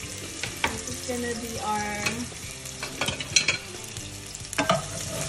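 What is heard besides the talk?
onion frying in oil in a pot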